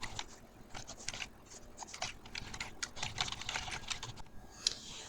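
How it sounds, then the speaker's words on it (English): Rapid typing on a computer keyboard, close and crisp, with irregular bursts of key clicks and brief pauses between words, no voices present. "The typing is very responsive."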